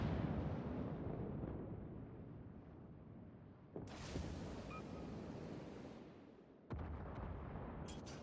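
Naval gunfire from a Kongo battleship firing high-explosive shells in World of Warships, with a rumbling, surf-like battle ambience broken by two sudden heavy blasts partway through.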